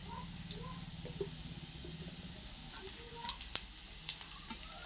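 Whole cumin seeds and a bay leaf fry in hot oil with a soft, steady sizzle, joined near the end by a few sharp pops and crackles.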